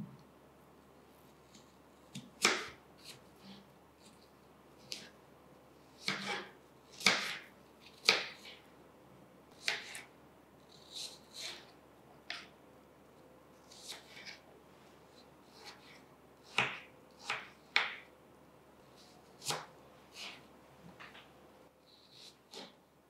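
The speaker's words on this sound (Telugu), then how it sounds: "ఈ గ్రీన్ యాపిల్ని కూడా మనము స్మాల్ స్మాల్ పీసెస్లో కట్ చేసుకుంటాము" A knife cutting a green apple into small pieces on a board, a slow series of crisp, sharp chops and clicks, each cut distinct, close and fairly quiet with no talking.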